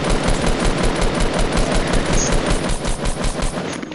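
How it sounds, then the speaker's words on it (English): Rapid automatic gunfire in a first-person shooter video game, a dense, continuous burst of close, loud shots for several seconds with no pauses. "Oh, he just shot the shit out of me."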